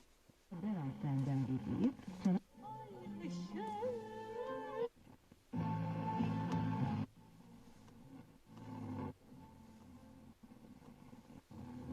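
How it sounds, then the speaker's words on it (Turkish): A Ford Focus 1 car radio under test plays broadcast sound in bursts from the dashboard speakers, with voices and tonal, music-like passages switching abruptly as stations change, fairly loud and close inside the car. "Şimdi bir de radyomuzu test edelim."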